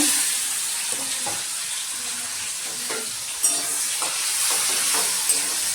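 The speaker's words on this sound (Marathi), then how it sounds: "आता मी कांदा टाकते फोडणीला, त्याच्यामध्ये लगेच टोमॅटो" Onion dropped into hot oil tempering for a Maharashtrian brinjal (vangi) curry sizzles steadily throughout, with stirring scrapes and a few sharper clinks over a constant frying hiss, no talk over it.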